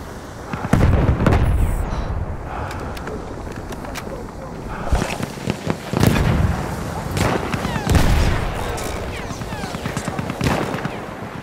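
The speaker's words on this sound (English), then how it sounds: "Slinging grenade!" Battlefield 1 game combat with several sharp explosive booms and bursts of gunfire scattered through the clip, one loud blast early and more near the middle, amid chaotic battle noise with a player's voice.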